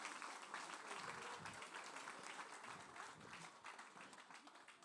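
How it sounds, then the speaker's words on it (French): Parents at a school parents' celebration applaud a small group of women, a soft, distant, even crackle of many hands clapping that runs steadily for several seconds and fades slightly near the end. "On les applaudit pour les encourager."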